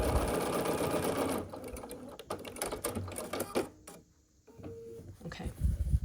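Sewing machine stitching one side onto a scrappy Lady of the Lake quilt block, a steady close mechanical whir for over a second, then quieter intermittent bursts of stitching with short pauses and a brief near-silent gap.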